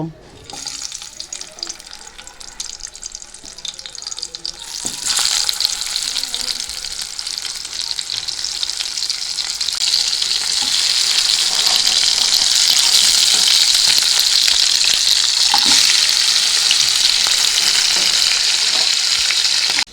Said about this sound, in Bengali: তেলটা গরম হয়ে গেছে, এবার কাঁকড়াগুলোকে দিয়ে দেব।